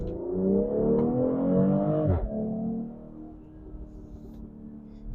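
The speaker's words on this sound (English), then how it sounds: "You can hear the exhaust from the cabin." A car's aftermarket Alibaba exhaust with stock downpipe drones inside the cabin in sport mode, swelling under acceleration and then dropping to a steady lower rumble after a gear change.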